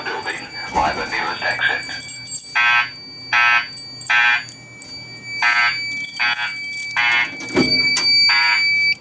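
A building fire alarm sounding during a system test: a loud, harsh electronic horn repeating in regular pulses, with a spoken announcement and other voices over it.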